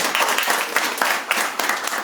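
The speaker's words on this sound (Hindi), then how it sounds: "अगर सही बात लगती है तो ताली तो दे दो कम से कम।" Applause from an audience at a talk, a burst of dense clapping with some sharper individual claps poking through, fairly close and loud.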